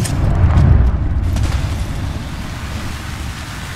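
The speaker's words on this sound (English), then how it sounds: "thermite grenade out." A thermite grenade in the Apex Legends shooter gives a deep booming burst followed by a sustained crackling, fiery rush that slowly fades, loud and close with no talk.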